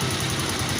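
A Honda TMX 125 motorcycle engine runs steadily after an oil change, giving a close, continuous low idling rumble with an even throb and no voices.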